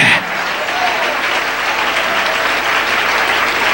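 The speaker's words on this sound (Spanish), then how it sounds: "Denle un aplauso al Rey en esta preciosa noche." A church congregation applauds steadily during an evening worship service, a dense, even wash of clapping that carries on alone from start to finish.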